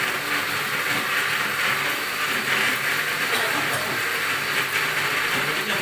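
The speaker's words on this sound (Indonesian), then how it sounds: "kita blender, kasih air sedikit ya buat ngeblender" A blender whirs steadily as it grinds a spice paste with a little water, a constant loud motor whine with a hissing edge and no pauses.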